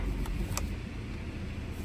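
A BMW F-Series car idling in sport mode with its exhaust valve held open gives a steady, full, low rumble that carries close and loud for the whole moment.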